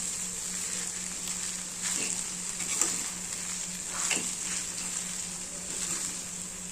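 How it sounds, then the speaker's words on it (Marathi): Salted poha is stirred into a hot tempering in a kadai for spicy tarri poha, giving a continuous close sizzle broken by a few scraping stirs, with no one speaking. "आता कढईमध्ये टाकले आणि मिक्स करून घ्यायचे"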